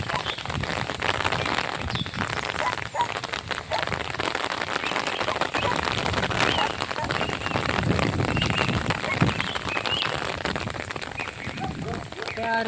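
Heavy rain pours steadily in the Sundarbans, around the L block near Rakhalpur, a dense continuous hiss of drops drumming on surfaces, loud and unbroken throughout.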